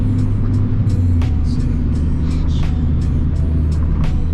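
Ford Focus ST exhaust heard from inside while driving on a cold, windy day: a loud, steady low rumble with brief sharper bursts as the engine works, no talking.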